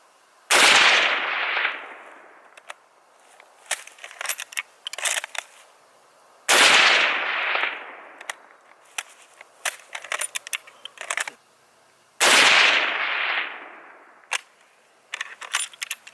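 An 8mm Mauser rifle fired outdoors at a block wall 300 yards away: three loud, sharp gunshots about six seconds apart, each trailing into a long fading echo, with clicks and rattles of the bolt being worked between shots.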